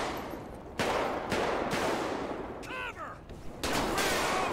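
Loud in-game gunshots and rapid volleys in a GTA 5 police shootout, several sharp bursts separated by brief gaps, with a ricochet-like whine in the middle.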